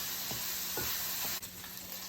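Meat for biscuits and gravy sizzles and fries steadily in a pan, with a few soft stirring scrapes and a utensil knock over a constant close hiss.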